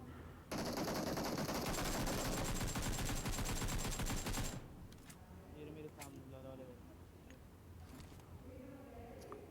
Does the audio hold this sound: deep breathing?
no